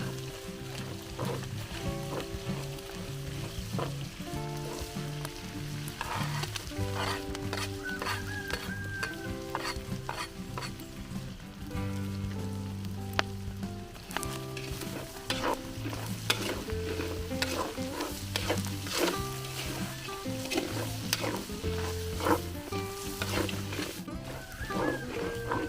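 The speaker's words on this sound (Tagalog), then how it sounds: "Gigisa na po ng sibuyas at bawang." Onion and garlic sizzle steadily in a pan while being stirred, a soft, continuous frying sound in a country farm kitchen, with music playing in the background.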